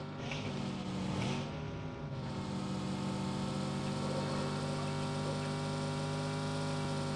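Car engine droning steadily in the PUBG Mobile battle royale game on the Miramar desert map, a sustained in-game motor hum with harmonic whine that holds level throughout, no talking.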